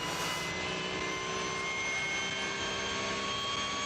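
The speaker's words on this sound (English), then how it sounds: "Now that is the sound of a Porsche." A Porsche GT3 Cup race car engine during qualifying for the 24-hour race at the Nürburgring, a steady, loud, high-revving roar with no talk over it.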